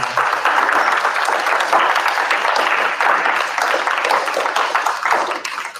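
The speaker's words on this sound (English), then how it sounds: "give these gentlemen a great round of applause" A loud round of audience applause at the close of a panel discussion, dense and continuous before tapering slightly at the end, with no talk over it.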